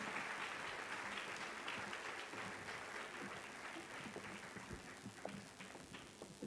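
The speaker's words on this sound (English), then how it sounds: "Let's give them a warmer round of applause." Audience applause at a women's health and wellness event: a steady, dense wash of clapping from a crowded room that continues without a break and fades slightly toward the end.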